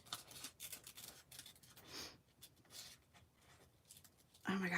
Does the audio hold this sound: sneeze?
no